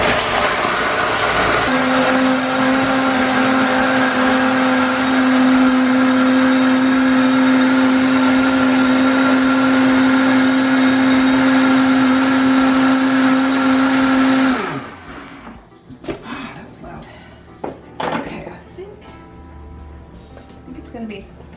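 Blender whirring loudly at high speed while mixing a banana smoothie, a steady strong motor whine for about fourteen seconds that then cuts off, followed by clinks and handling noises.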